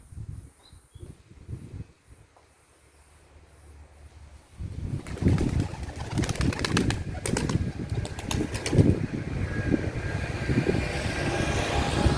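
Young pigeons released into a flock for their first flights; soft early sounds give way to a steady burst of flapping wings with outdoor noise that carries on to the end.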